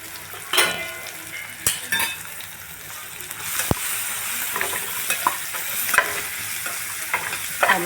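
Chopped onions seasoned with salt and turmeric sizzle steadily in a pan while preparing a bitter gourd dish, with occasional scrapes and clinks of a stirring spoon against the pan.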